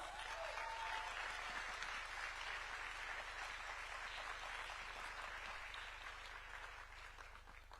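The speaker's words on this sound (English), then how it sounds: "We can keep clapping for her until she takes a seat" A conference audience at a summit science exhibition claps continuously for a speaker taking the stage, a broad steady wash of applause heard from some distance, easing off near the end.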